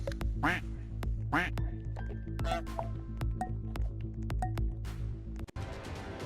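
A cartoonish duck quacks several times in quick succession over a steady electronic Roblox game soundtrack, with small blips and clicks between quacks.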